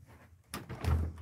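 A car door shuts with a quick double thunk, a light click followed by a heavier closing impact, close by in a quiet setting.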